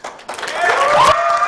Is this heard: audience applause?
yes